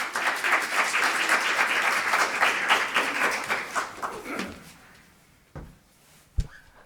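An audience at a college athletics banquet claps and applauds to welcome the college president to the podium, a dense sustained burst of many hands that fades out, followed by a couple of isolated thumps near the microphone.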